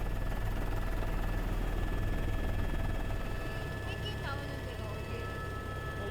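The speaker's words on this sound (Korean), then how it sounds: "생태 환경 조사를 맡은 연구원들이 헬기로 정찰을 시작했다." A research helicopter flies reconnaissance over the remote snow and ice of Cape Burks, Antarctica, giving a loud, steady rotor and engine drone that holds constant and eases slightly near the end.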